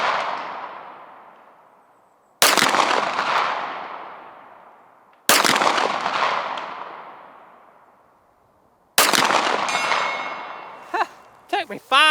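A Walther PDP pistol fires four loud, sharp shots at long range outdoors, each followed by a long rolling echo that fades over about two seconds. The last shot is cut off by someone speaking.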